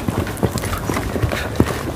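A young horse named Sereno, only six rides into training, is ridden, his hooves clip-clopping in an uneven rhythm close by, with a few heavier thuds standing out.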